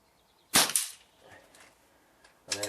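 Two sharp shots from an HW97KT spring air rifle fired at a target outdoors, each a loud crisp crack with a short tail, separated by nearly two seconds of quiet with faint background noise.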